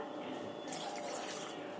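Water pours into a pot of curry on a home stove, a steady splashing stream that grows brighter partway through, close and fairly quiet, with no speech.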